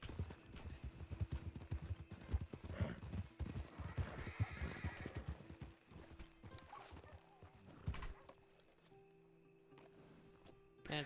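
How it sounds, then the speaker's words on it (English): Four horses gallop past in the RedM video game, hooves clip-clopping in a rapid, dense rhythm that fades as they go by, with a horse whinnying loudly, faint overall. "Do you hear that? Yeah, 4 horses just went by."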